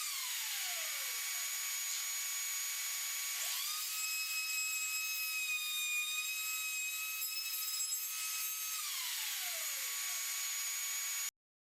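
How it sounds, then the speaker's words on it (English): A router on a Pantorouter cuts a dovetail in a wooden piece, spinning up to a steady high whine that holds for several seconds before winding down, loud and alone without talk. "it is easiest to make the router stop and then exit the piece"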